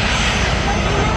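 An airplane about to take off gives a loud, steady engine roar that fills the whole moment with broad, unbroken noise.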